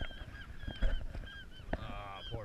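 A seagull caught in fishing line gives harsh, honking calls in a few bursts, fairly close and loud against outdoor background noise.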